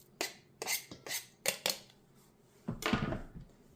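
Pumpkin pie filling with spices is mixed in a bowl: a close series of irregular clinks and scrapes from the utensil against the bowl, several quick strokes with short pauses and no voices.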